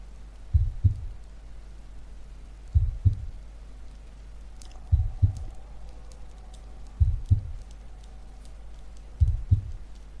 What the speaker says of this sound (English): With every heartbeat.